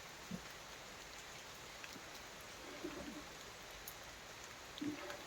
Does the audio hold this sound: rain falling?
yes